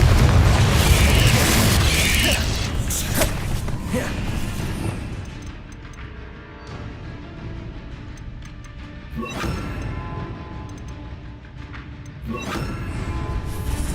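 Explosive spell blasts from the video game Hogwarts Legacy thud as a few deep booms, one near the start and others around the middle and end, over continuous loud game noise and a steady low rumble.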